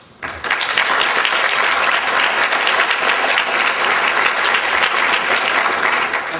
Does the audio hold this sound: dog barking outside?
no